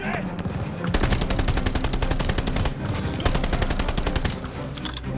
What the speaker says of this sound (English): Need to deal with that MG!